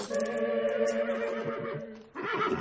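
A horse neighs loudly and close by in a long whinny that ends abruptly, followed by a second shorter, rougher call.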